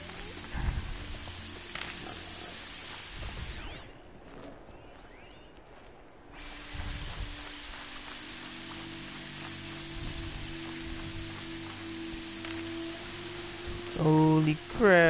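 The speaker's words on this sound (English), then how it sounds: "It's raining." Steady rain falling in Horizon Zero Dawn, a soft continuous hiss of drops on surfaces that runs throughout, briefly dropping out midway, with a voice talking over parts of it.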